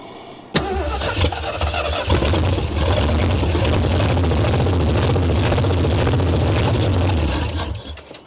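A 1973 Ford Mustang Mach 1 engine cranks briefly, catches and fires up, then runs loud and rough with the throttle worked before dying away near the end, no speech.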